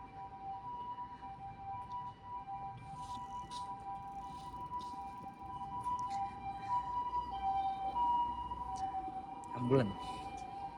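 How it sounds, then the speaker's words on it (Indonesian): An ambulance siren wails on a Tokyo street, a steady two-tone howl heard at moderate distance under street noise, with a brief louder knock near the end and no talk over it. "Ambulan."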